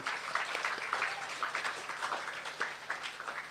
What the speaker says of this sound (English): I want us to applaud her for her report this morning.